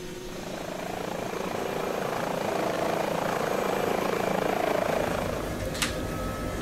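An Airbus H145 helicopter engine spools up in Microsoft Flight Simulator, a steady, loud turbine whine and rotor drone building over several seconds and holding, with no talk over it.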